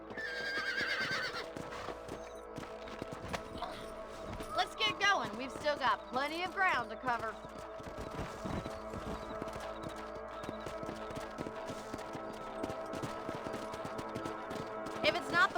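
Horses in the Western video game Red Dead Redemption whinny several times and their hooves clip-clop steadily, while someone talks over a continuous backdrop of ambient sound.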